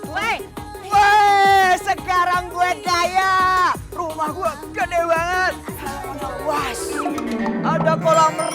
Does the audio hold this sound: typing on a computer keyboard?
no